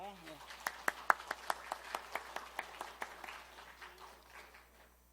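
A congregation at an afternoon church service at Yeosu Simin Church claps in a string of sharp, evenly spaced claps that thin out and fade, with a voice heard briefly at the start.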